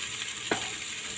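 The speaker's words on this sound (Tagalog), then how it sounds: "So, ngayon, ilagay ko na yung cream." Cream goes into a pan of chicken and browned onion, a brief soft splash over a steady, close frying sizzle.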